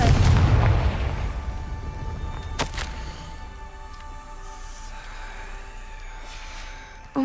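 An explosive spell blast in the Hogwarts Legacy video game, a loud deep boom with a sharp crack that rumbles and fades over several seconds.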